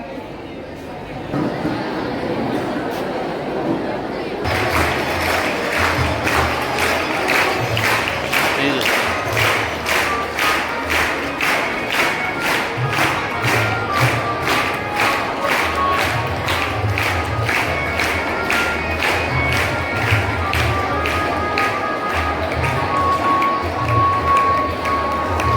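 A crowd at a school farewell celebration for a retiring employee claps in a steady rhythmic beat, with cheering and chatter mixed in, loud and continuous after a quieter start.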